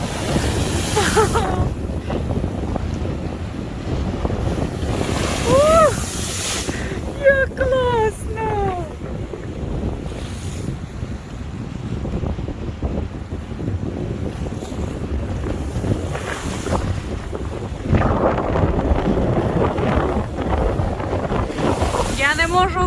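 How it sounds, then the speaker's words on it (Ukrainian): Ocean waves surge and wash continuously under blustery wind, with occasional voices calling out over the roar. "Дивіться, яка хвиля висока."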